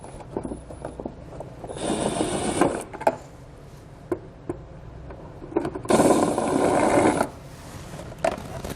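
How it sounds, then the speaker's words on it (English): A 15mm socket on a ratchet loosens plastic nuts during a Curt trailer hitch install on a 2020 Hyundai Santa Fe, giving two sustained bursts of quick, close mechanical clicking and rattling, separated by scattered taps and clunks. "we can use a 15mm socket to remove the plastic nuts that hold it on the top"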